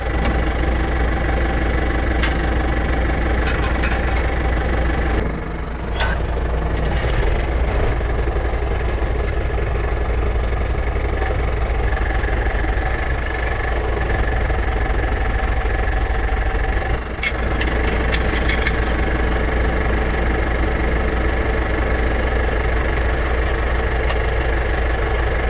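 A tractor engine idles steadily and close by on a farm field being chisel plowed, a continuous low rumble with an even knock and no pauses for the whole stretch.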